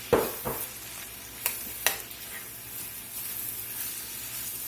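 A can of Rotel tomatoes goes into a sizzling Tex-Mex jambalaya pot, opening with a few sharp clanks and splashes before settling into a soft, continuous sizzle and hiss.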